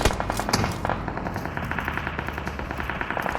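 Rapid automatic gunfire from PUBG on the Erangel map strikes a vehicle, a dense, continuous rattle of bullet hits and shots that stays loud and steady throughout.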